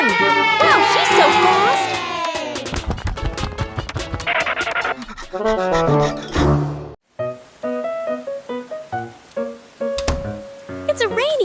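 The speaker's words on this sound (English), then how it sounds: "The cheers from the crowd get louder" A crowd cheers and shouts over lively music, the voices rising and falling loudly throughout.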